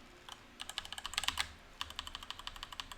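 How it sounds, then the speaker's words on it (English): Fingers tap on a computer keyboard in two quick bursts of crisp, close keystrokes, separated by a short pause, faint but distinct against a quiet background. "Keyboard ASMR."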